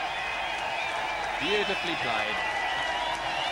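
Cricket crowd at an India versus Pakistan match in Singapore giving a steady, distant wash of cheering and applause after a six by Tendulkar, with a commentator talking briefly over it.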